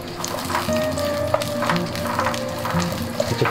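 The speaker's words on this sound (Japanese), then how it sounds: "じゃあ、とりあえず炒めさせてもらう" Food being stir-fried in a pan at a campsite breakfast, a steady close sizzle with occasional scraping and stirring clatter, no talk.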